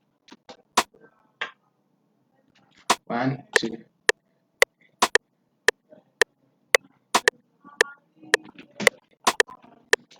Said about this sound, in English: this rim shot. Sounds like this.